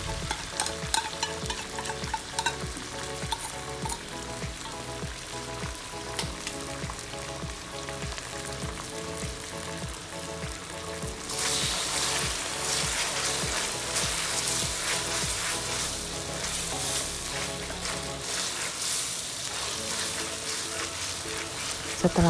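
A steady sizzle of ground chili paste and tomato sauce frying in a pan while being stirred, the crackle growing brighter and louder partway through, with no voices.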